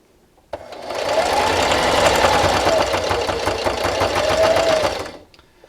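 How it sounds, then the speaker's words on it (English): A sewing machine runs steadily for about four and a half seconds, stitching a scrappy fabric dish scrubber with a backstitch, a loud close mechanical whir that starts and stops abruptly. "And just keep sewing."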